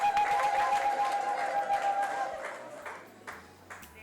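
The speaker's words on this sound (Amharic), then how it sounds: "እልልታ ጭብጨባ አምጡ።" A church congregation at a sermon bursts into loud clapping and ululation, the cheering strongest at the start and fading over a few seconds.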